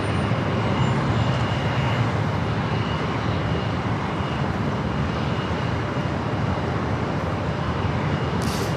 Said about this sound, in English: It's a Phenom 300.